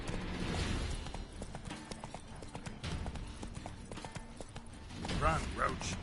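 Roach, the horse in the video game Witcher 3, gallops with a steady rapid clip-clop of hooves and a brief whinny near the end, while a voice talks over it.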